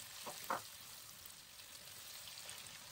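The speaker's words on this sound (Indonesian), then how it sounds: "kita tumis dulu bawang putih sampai harum ya. Kemudian lanjut kita masukkan bawang bombay" Garlic and onion sautéing in hot oil in a pan, a quiet steady sizzle with a couple of brief stirring scrapes near the start, close by and faint.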